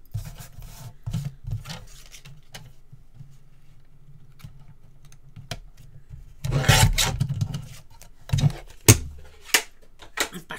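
Trimming a 4 1/8 by 3/4 inch piece down to size for an ink and marker storage build: irregular rubbing and rasping strokes, quiet and scattered at first, then louder bursts of scraping with sharp knocks near the end.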